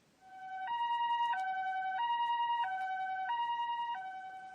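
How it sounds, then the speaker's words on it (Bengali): An ambulance siren alternating between two tones in a steady hi-lo pattern, clear and close, sounding alone for several cycles. "এটা অ্যাম্বুলেন্সের সাইরেন"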